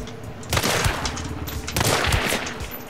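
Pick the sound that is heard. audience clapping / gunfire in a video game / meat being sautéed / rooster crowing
gunfire in a video game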